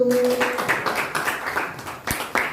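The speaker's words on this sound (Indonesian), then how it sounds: "Tepuk tangan untuk kelompok 1." A classroom group claps for the first team's presentation, a short burst of scattered hand claps with a few sharper taps, fading quickly.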